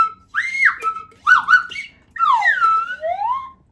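A small flute plays on a stage in three loud, close phrases of sliding, bending notes separated by brief gaps, with no other sound behind it.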